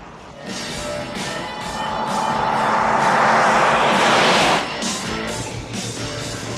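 An airplane takes off, its jet engine roar swelling to a loud, sustained rush that peaks around four seconds and then eases back to a steady drone.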